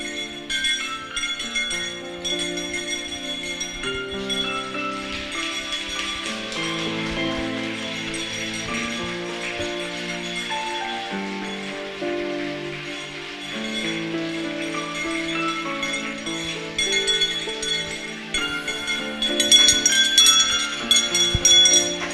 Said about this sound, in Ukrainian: Такою симфонією для вас прозвучала мелодія шкільного дзвоника, як відгомін далекого дитинства